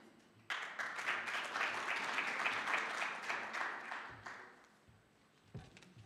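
An audience applauds at a national food quality awards ceremony as the prize for best chef under 30 is presented, a dense burst of clapping that swells quickly, holds steady, then thins out to scattered claps.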